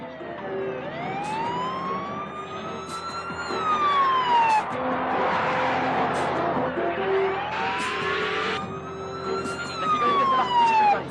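Police car siren in a Bollywood action film, loud and continuous with rising and falling wails that overlap other tones, persisting through a busy street scene with brief shouting.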